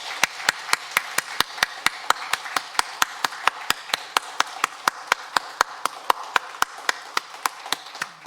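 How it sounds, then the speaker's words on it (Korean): Congregation clapping in unison during a Sunday church service, a steady rhythmic beat of sharp claps about three per second, loud and even throughout with no talk over it. "우리 다시 힘찬 박수로 주님 앞에 영광 돌리겠습니다."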